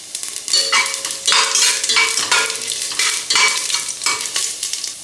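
Cumin seeds and urad dal splutter in hot oil with a bright, crackling sizzle, steady and close, broken by repeated stirring scrapes against the pan.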